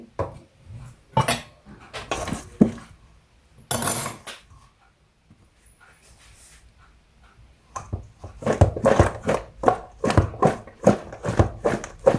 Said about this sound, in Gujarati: હવે આપણે એમાં રતાળું બી એડ કરી દઈએ અને બરાબર બધાને એક સાથે મિક્સ કરી લઈએ